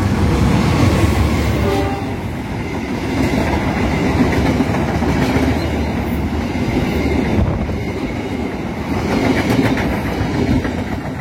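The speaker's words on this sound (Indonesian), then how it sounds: "kereta api Serayu dari Pasar Senen tujuan Purwokerto melintas di stasiun Raja Polah" The Serayu passenger train from Pasar Senen to Purwokerto runs through Raja Polah station without stopping: a loud, continuous rumble and rail clatter that holds steady throughout, with no voices.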